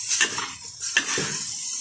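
Sausage fried rice being stirred in a pan, a couple of close metallic scrapes and clinks of a utensil against the pan over a faint sizzle, brief and with no voices.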